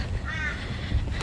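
Crows cawing outdoors near a walking trail, a short harsh call over low background rumble.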